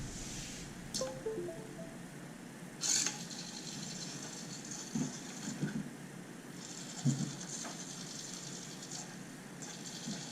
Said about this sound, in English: we're going to have 2 servo motors running simultaneously